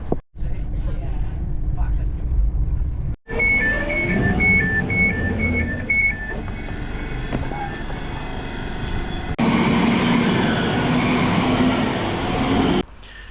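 A diesel gala passenger train runs toward Croy, its steady rolling rumble and clatter filling the carriage, with a pair of high two-tone warning beeps early on and passengers chatting throughout.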